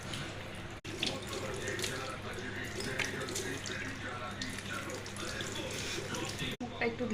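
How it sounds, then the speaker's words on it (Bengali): Tap water runs steadily into a sink for face washing at home, a continuous close splashing flow with two brief breaks, alone without talk. "মুখটা একটু ধুয়ে নিলাম"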